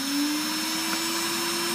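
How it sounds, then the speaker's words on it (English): A pedicure drill machine's vacuum suction switches on and runs as a steady, even whirring drone with a sustained tonal whine, close and alone. "To put on the vacuum, you just turn this knob."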